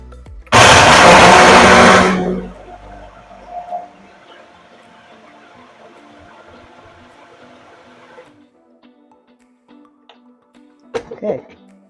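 A blender whips up a thick pink protein-powder smoothie in a home kitchen, a loud whirring burst for about two seconds that quickly stops, followed by a low lingering hum and a few faint clinks.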